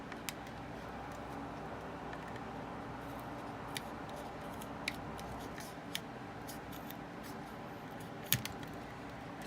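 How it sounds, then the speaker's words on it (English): A knife trims excess material from printed parts for a Flsun Kossel delta 3D printer: sparse, quiet, close clicks and small scraping snips over a low room hum. "I just use the knife carefully here."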